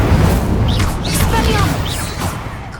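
An Incendio fire spell cast in Hogwarts Legacy: a loud booming burst with crackling, whooshing flames and sharp swept effects, while a voice talks over the blast.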